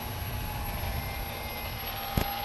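A twin-engine RC model airplane flies with a steady, high motor whine and constant propeller hum, with one brief click near the end.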